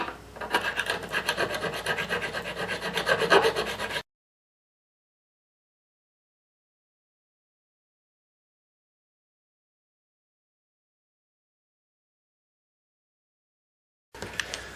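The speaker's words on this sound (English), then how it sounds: "Now we will just go back over it lightly and re-crown them lightly" A file rasps rhythmically across the frets of a Martin DS1 guitar, close and fairly loud for about four seconds. It breaks off into silence and then returns briefly at the end.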